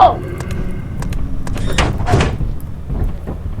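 In the horror game Lethal Company, a door thuds and slides shut with a few clunks and a whooshing slam, loud and close, while people talk excitedly over it.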